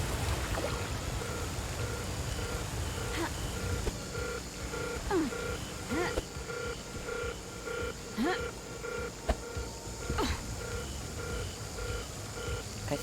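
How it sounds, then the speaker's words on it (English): A repeating electronic barracks alarm from the video game Paradise Killer: steady pulsed tones in a regular beeping rhythm, holding at a constant level above a low ambient rumble throughout. "It's the alarm for the barracks, I think, maybe."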